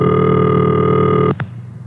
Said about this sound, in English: And this is the ringing signal.